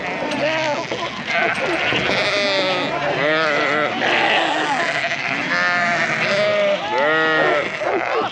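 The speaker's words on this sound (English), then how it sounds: "Just get them in the yards, we'll draft the lambs off" Lambs and sheep bleat repeatedly and loudly in farm sheep yards, several overlapping calls close by, with people talking among them.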